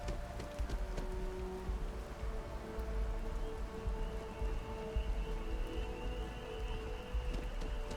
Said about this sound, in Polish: Deszcz tu pada?